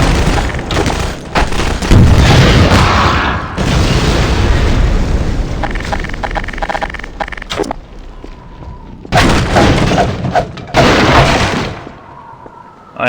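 Grenade explosions in the video game Half-Life 2: Lost Coast: loud booming blasts with rumbling tails, a dense run of bursts followed by a quieter stretch and then two more heavy explosions.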